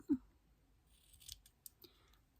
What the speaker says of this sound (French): Je découpe mon petit morceau.